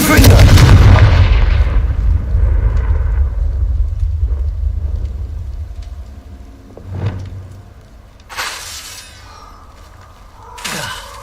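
In Hogwarts Legacy, a Confringo spell sets off a loud, booming explosion that rumbles and decays over several seconds, followed by fainter thuds and two bright magical whooshing bursts.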